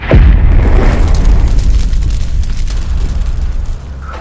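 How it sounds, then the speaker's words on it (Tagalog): Fire bursts up from a floor in a dramatic story effect: a loud, sudden booming whoosh at the start that rolls into a sustained roaring, crackling rumble, easing slightly near the end. "Bumulwak ang apoy sa isang bahagi ng sahig"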